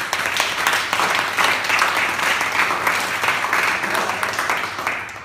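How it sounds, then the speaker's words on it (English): Applause from the audience at a Toastmasters club meeting, steady broadband clapping filling the room for about five seconds, holding fairly level before easing slightly at the end. "Give a round of applause."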